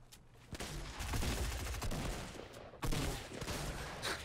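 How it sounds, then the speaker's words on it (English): Shotgun blasts and other weapon fire during a Fortnite Battle Royale fight, a busy, continuous clatter of shots with a sharper burst near the end, no talk on top. "it just turns into a jumping shotgun fight"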